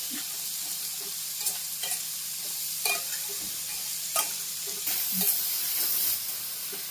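Salted tambakaya vegetable pieces frying in a pan give a soft, steady sizzle under a low hum, broken by occasional scrapes and taps of a stirring spoon.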